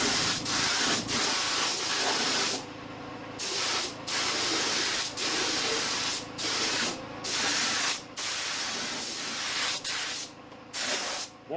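Spray gun painting the engine bay of a ZK Ford Fairlane, steady close hissing bursts of several seconds each, separated by short pauses as the trigger is released.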